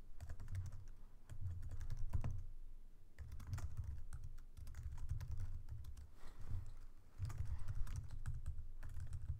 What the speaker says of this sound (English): I'm just typing out this.